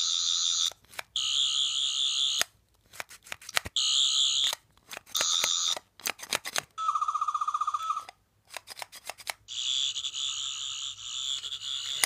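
Fifth Doctor toy sonic screwdriver sound chip: electronic chirps and warbling tones in bursts, high-pitched and buzzy, switching between patterns with short silences between.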